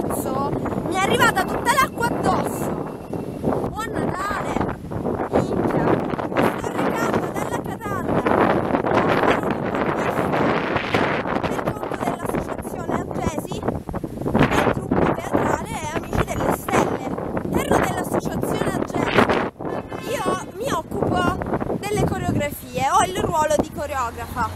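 Wind buffets the microphone in a constant rough roar, with people talking underneath throughout.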